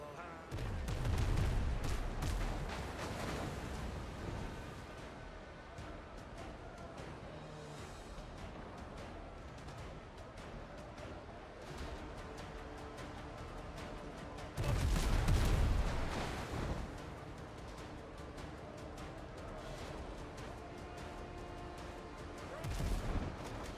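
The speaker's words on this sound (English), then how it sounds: "Man the cannons!" Sailing-ship cannons fire in the pirate video game Windrose, a long busy barrage of heavy booms and crackling blasts with two louder bursts, mixed with battle noise and occasional voices.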